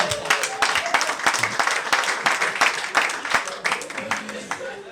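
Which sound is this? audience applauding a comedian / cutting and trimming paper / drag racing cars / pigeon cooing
audience applauding a comedian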